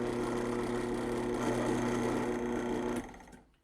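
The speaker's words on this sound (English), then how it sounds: "And there we are with our basic holes drilled" A drill runs steadily at a loud, even whine while boring half-inch holes for a battery caddie, then stops abruptly near the end and winds down into quiet.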